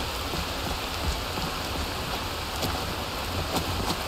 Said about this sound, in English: We'll get out of this rain